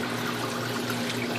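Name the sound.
Panda portable washing machine draining water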